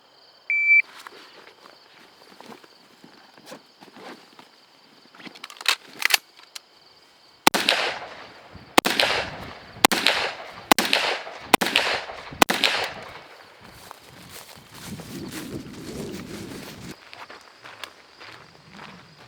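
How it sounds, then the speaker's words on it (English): Bag gun firing in a video game: scattered early shots, then a rapid string of about eight loud, evenly spaced blasts mid-clip, followed by quieter footstep-like shuffling and faint later pops, with no talking. "Let's break out the bag gun."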